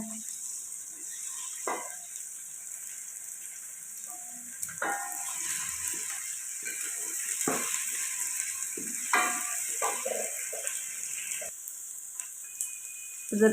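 A steady sizzle of ginger garlic paste frying with half-cooked onions in a hot pan, with occasional scraping stirs and clinks of a utensil, close and moderately loud.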